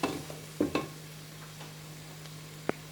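Flavored rice tipped into a hot pan for Ghana fried rice and stirred, giving a few soft scraping and rustling strokes with a faint sizzle under a steady background hum, then one sharp clink near the end.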